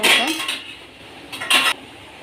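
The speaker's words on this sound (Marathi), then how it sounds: "थोडंसं परतून झालं की हलवून झालं आहे आता" A spatula scrapes and clinks against a pan while sautéed cabbage is stirred, in two short bursts of metallic scraping heard close, with no talking.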